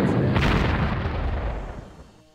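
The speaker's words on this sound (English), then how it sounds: "I want to shoot these guys with the Stuka" A Stuka dive bomber attack in the strategy game Panzer Corps: a heavy explosion booms loudly, then its rumbling tail fades out over about two seconds.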